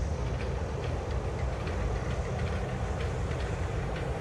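A Disney lime monorail train rolls past as a steady, broadband rumble with faint rail clatter, holding an even level throughout without any talk.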